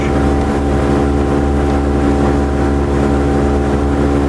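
A 2022 Mercury 60hp outboard on a Starcraft boat drones steadily and loudly up close, a constant low hum with a rushing of wind and water, no voices.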